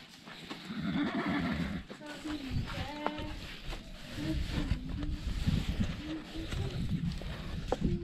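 A mare neighs and whinnies close by in a rural setting, several short calls spread across the clip amid hoof clip-clops and shuffling, with people talking in the background.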